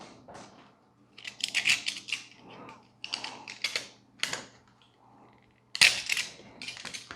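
A heavy duty strap cut while unboxing a Hiboy KS4 electric scooter, heard as several close, crisp snips and crunchy cutting bursts, then a sharper final snap.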